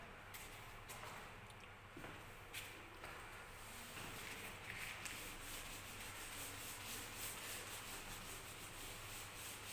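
A teacher rubs chalk off a classroom blackboard, a steady soft scraping swish that runs on and off for several seconds, quiet and close, with no talking.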